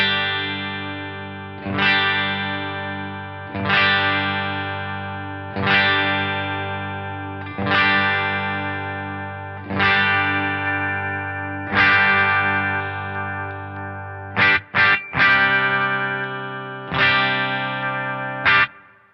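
Electric guitar in single-coil mode with a 25K potentiometer, strummed chords struck roughly every two seconds and left to decay, with a quick cluster of strums near the end, distorted tone played alone.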